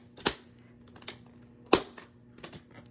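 A paper cutter slips while trimming card stock, giving two sharp snapping clacks with lighter ticks and taps in between, close and dry.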